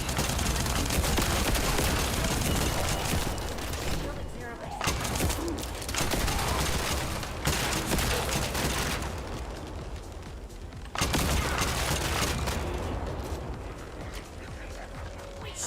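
Shotgun blasts and weapon fire from the looter shooter The First Descendant, loud and nearly continuous in dense overlapping bursts with brief lulls, alongside game effects.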